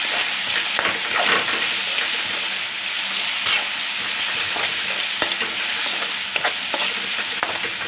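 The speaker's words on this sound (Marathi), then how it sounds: "हिरव्या मिरचीचा आहे ना तिखटपणा आणि कच्चापणा जाईपर्यंत तेलामध्ये परतून घ्यायची" Blended green chili sautéing in hot oil in a pan, giving a steady close sizzle with intermittent stirring scrapes throughout.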